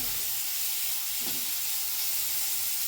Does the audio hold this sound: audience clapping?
no